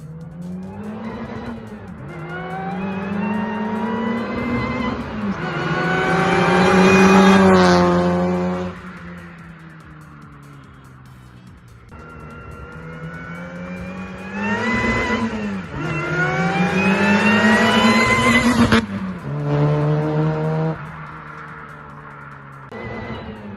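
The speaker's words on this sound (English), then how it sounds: "we hit the limiter really easy" A supercharged Nissan Micra engine revs hard several times in close succession, each sweep climbing quickly to the rev limiter and bouncing there before dropping back, loud and close with no talking.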